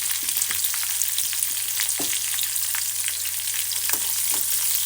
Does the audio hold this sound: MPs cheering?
no